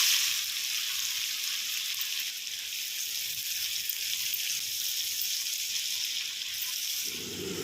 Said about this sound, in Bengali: লো ফ্লেমে পেঁয়াজটা তিন চার মিনিট ভাজা হলো